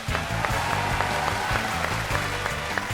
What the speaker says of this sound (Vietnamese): Một tràng pháo tay cho họ.